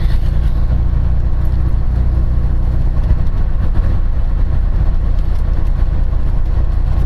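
A VW Type-3 car drives through town, its low engine rumble and road noise steady and close throughout, with no talk.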